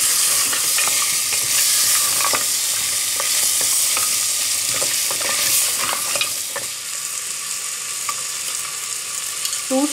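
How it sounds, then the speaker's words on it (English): Chili powder stirred and sautéed in hot oil for a Kashmiri rogan josh, a loud continuous frying sizzle broken by repeated scraping clicks of the stirring spoon against the pan. "stir it so that the chili powder gets sauteed with oil and it gives better color"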